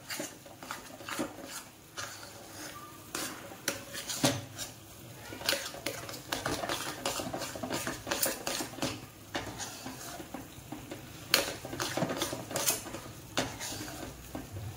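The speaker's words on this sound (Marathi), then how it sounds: "मी बारीक गॅसवरती भाजतीये चांगला." Moong dal roasts in ghee in a heavy-bottomed pan over a low flame, with repeated scraping and clinking of a spoon against the metal as it is stirred, fairly quiet and close.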